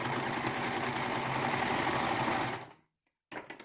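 A serger sewing machine stitches elastic onto a fabric ninja mask, running in a loud steady whirring burst for a couple of seconds, stopping abruptly, then starting again briefly.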